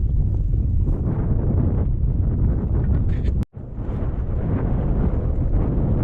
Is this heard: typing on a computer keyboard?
no